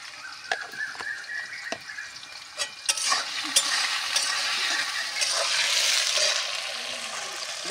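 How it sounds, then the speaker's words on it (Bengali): Banana flower worked by hand with green chili paste and raw oil, giving wet squelching and slapping sounds in irregular bursts that rise into a steady, close mashing. "এই দিয়ে আমি মোচাটা মেখে নেব।"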